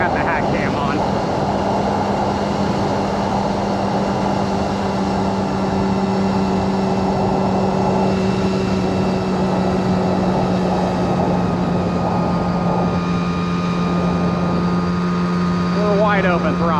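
A 1979 Honda Express moped engine runs at wide open throttle, a steady droning buzz that carries under wind noise from a head-mounted camera while a rider talks over it.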